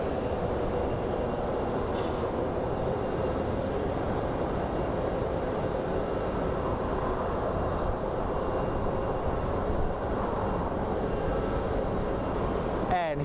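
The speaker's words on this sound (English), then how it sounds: "And here we have a United taxiing at a leisurely pace, and then the SkyWest is right behind him." United airliner taxiing at Phoenix Sky Harbor airport, with a SkyWest jet right behind: a steady, dense jet engine roar at a distance, continuous and even throughout with no clear breaks.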